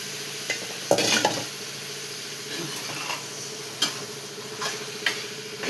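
Potato pieces fry in a pan with a low, steady sizzle, broken by a louder burst of stirring scrapes near the start and a few light clinks of utensil against the pan later on; no voices.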